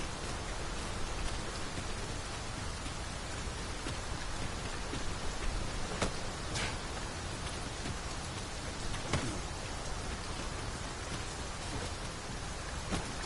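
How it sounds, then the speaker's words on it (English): Heavy rain falls in the video game Dragon's Dogma 2 during a mountain climb, a steady dense hiss that runs evenly throughout, with a few brief sharper spikes but no voices. "It is raining most heavily,"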